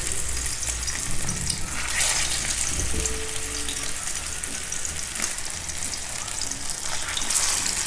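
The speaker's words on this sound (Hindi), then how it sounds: "ये हम बगैर अंडे के फ्राई कर रहे हैं" Potato tikki cutlets fry in a small amount of hot oil, a constant loud crackling sizzle that fills the clip with small pops throughout.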